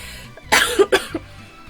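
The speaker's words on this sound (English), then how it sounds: "I'm never gonna stop coughing." Two or three harsh coughs in a quick burst, close to the microphone, followed by a faint throat clearing.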